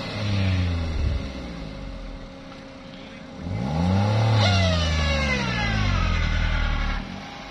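An off-road vehicle stuck during the Thal Jeep Rally in desert sand, its engine revving hard in repeated rising and falling surges, loud and close, with an unsteady pitch.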